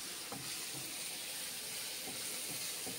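Onions and tomatoes fry in a pan, a steady bright sizzling hiss throughout with occasional faint stirring clicks, close and alone with no talking.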